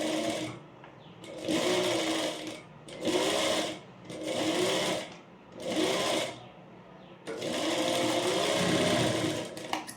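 A sewing machine stitches a blouse neckline in short whirring bursts, four brief runs with pauses between, then a longer continuous run at the end, close and clear.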